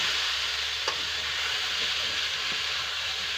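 Fish frying in a pan at home, a steady close sizzle and hiss running throughout with a faint clink partway, no talking.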